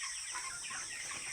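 Farm chickens cluck faintly in the background, with a steady high insect-like hum over the scene.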